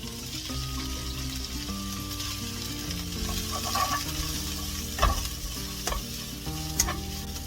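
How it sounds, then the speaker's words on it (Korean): Blanched mulberry leaves stir-fry in a pan with olive and perilla oil, giving a steady close sizzle with scraping stirring strokes and a few louder knocks of the utensil. "데친 뽕잎이에요. 살짝 볶아야죠."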